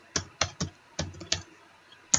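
Computer keyboard keys tapped while writing code, six or so distinct clicks in an uneven rhythm with short pauses, close and clear in a quiet room.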